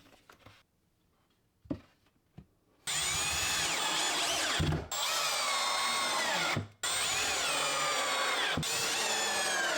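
A drill drives screws into a wooden closet organizer, three long loud whirring runs with brief pauses between, following some quieter handling knocks near the start.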